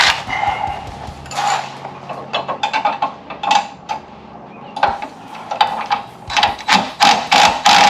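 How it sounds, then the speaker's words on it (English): Bolts on a Club Car golf cart being tightened with a 17mm wrench and socket, a rapid series of metallic ratchet clicks in bursts with brief pauses between, close and fairly loud. "I'm gonna tighten those bolts using 17mm wrench and socket"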